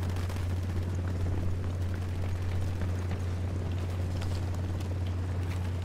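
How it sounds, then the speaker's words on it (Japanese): A sustained, rumbling explosion roars through a firefight in the video game Ghost Recon Wildlands, with a helicopter involved, a continuous loud wash of noise over a steady low hum. "おいおい、爆発するんかい。"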